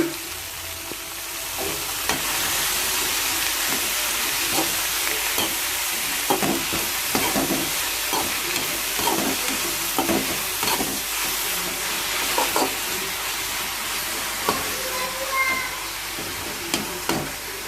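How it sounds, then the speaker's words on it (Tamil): Spinach (keerai) sautés in oil for a Chettinad pepper-tomato kootu, a loud, constant hiss of frying with frequent spatula scrapes and stirs against the pan, and a brief meow-like squeak partway through. "இப்போ இந்த கீரையும் போட்டு நல்லா வதக்கிக்கலாம்."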